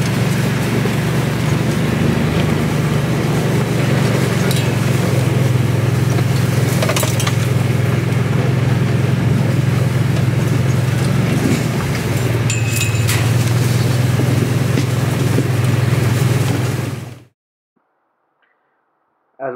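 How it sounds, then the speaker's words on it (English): A four-wheeler ATV drives around a paddock fence on leased land, its engine giving a steady low rumble close by with no talk, then cutting off abruptly near the end into silence. "As we take a quick drive around the fence"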